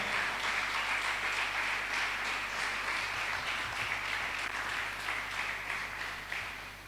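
Church congregation applauding during a Spanish-language sermon, a moderately faint, even wash of clapping that holds steady and then tapers off.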